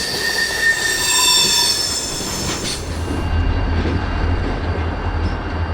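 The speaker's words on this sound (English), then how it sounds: "Here we see a local doing some switching on a beautiful May morning." A Norfolk Southern local freight train switches cars at an industrial park on a spring morning, with loud wheel squeal and rolling rumble; the squeal fades midway as a deep low rumble of railcars grows.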